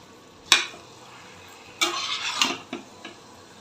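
A spoon scraping and clanking in a pot as rice is stirred into chicken biryani mixture, one sharp knock followed by a burst of scraping and a few lighter taps, close and fairly loud.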